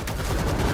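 Dense, continuous gunfire from the zombie shooter game World War Z comes as a short, loud burst of rapid shots.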